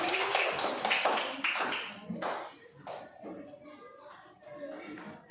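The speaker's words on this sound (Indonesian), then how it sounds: "Tepuk tangan untuk Amra dulu." A class of children in a mathematics lesson claps in short bursts of applause for a classmate, loud at first and then tapering into scattered claps as voices chatter.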